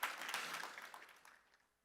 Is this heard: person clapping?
yes